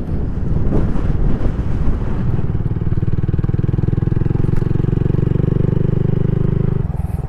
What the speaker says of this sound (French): vous entendez sûrement le vent parce qu'il y a pas mal de vent aujourd'hui là